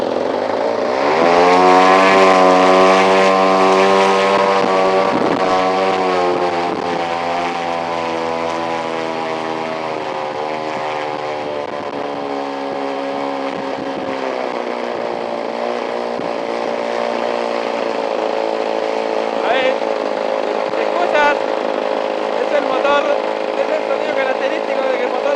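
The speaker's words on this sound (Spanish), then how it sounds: "hasta que el motor empiece a funcionar como irregular" A gasoline engine runs steadily and loudly while its carburetor is adjusted, a droning hum whose pitch sags and settles as the low-speed needle is turned, with someone talking over it.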